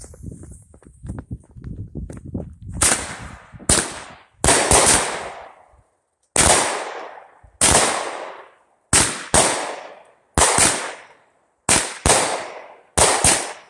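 Nine-shot firework cake, Luna Chick by World Class, fired outdoors: a fuse fizz, then loud booming shots about a second apart, each with a crackling tail, close and clear without talk.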